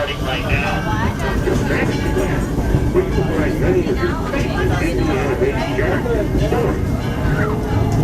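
The Disneyland Railroad train rumbles past steadily and close by, a continuous low mechanical roar with a faint high whine above it, under a bustling theme-park crowd.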